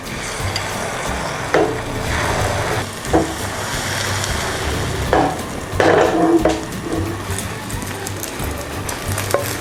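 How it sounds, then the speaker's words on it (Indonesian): An egg fries in hot oil in a pan on a stove, giving a steady sizzle with occasional louder crackles and the clink of a utensil stirring or turning. "Kita tunggu sampai minyaknya panas dan kita mau goreng telurnya."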